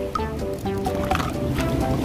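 Water sloshes and gurgles as small waves carry toy superhero figures along, a close, continuous splashing with high toy squeaks over it.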